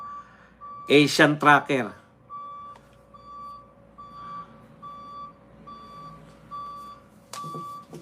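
A truck's reversing alarm beeps at an even, steady pace, a brief burst of talking at the start, then the beeps continue alone.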